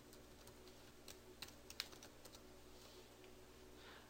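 Soft keystrokes on a computer keyboard tap out a short phrase, a light cluster of clicks over a faint steady hum, close but quiet.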